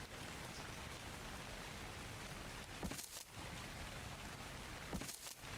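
Rain falling in the video game ARK: Survival Evolved, Scorched Earth map, a steady hissing wash of rainfall with a couple of brief louder swells, no voices.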